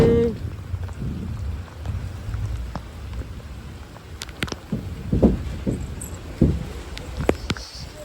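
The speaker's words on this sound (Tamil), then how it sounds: "மழை பெய்யுதே மழை பெய்யுதே மழை பெய்யுதே" Rain patters steadily outdoors in a wind and rain storm, with scattered sharp drips and taps, and a low rumble of thunder underneath.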